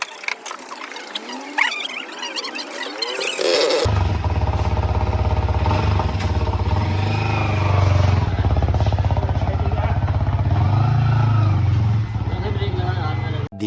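A Bajaj Pulsar NS200 motorcycle with an adjustable MT-15 handlebar idles and rides close by, its engine a steady low drone after it starts, with people talking over it at the beginning.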